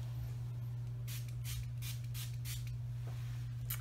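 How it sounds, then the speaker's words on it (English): Short bursts of a spray bottle misting water, about six quick hisses in a row, close by and fairly soft over a steady low hum, used while cleaning rubber stamps at a craft table. "So I'll spray this off to the side"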